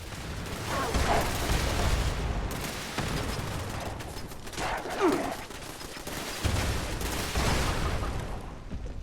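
Defensive turrets blasting attackers in Fallout 76, bursts of rapid gunfire and explosive booms rolling across the clip, loud and dense with brief gaps.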